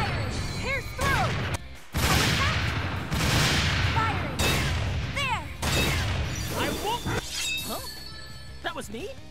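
Gunfire in the video game Dark Rose Valkyrie comes as repeated loud bursts and crashing impacts, interleaved with energetic voices shouting over the combat.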